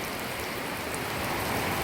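Rain falls steadily at a house construction site in the Philippines, a dense, even hiss of drops on surfaces, moderately loud and uninterrupted.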